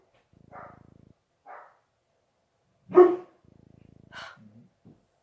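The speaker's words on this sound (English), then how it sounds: "Can these dogs stop barking?" A dog barks a few times in separate bursts, one loud sharp bark among softer ones, with quiet panting-like rasps in between.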